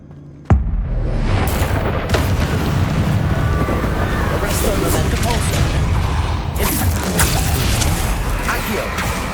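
Spell-casting explosions in Hogwarts Legacy: a sudden loud burst opens a dense, roaring stretch of magical blasts and whooshing impacts, with sharper bangs recurring throughout while a voice calls out.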